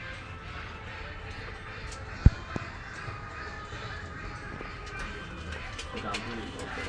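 Pakistani Rampuri pigeons, sold as a pair, coo softly in low, repeated murmurs under steady background noise, with one sharp knock partway through.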